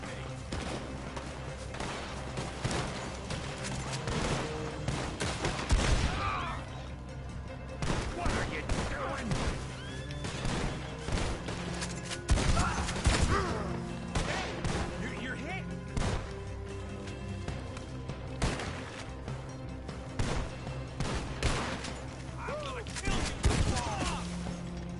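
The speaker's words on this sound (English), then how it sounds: "Alright, shotgun time." Shotgun blasts from the video game Red Dead Redemption 2, several loud booming shots scattered across a busy in-game soundscape, with people talking over the action.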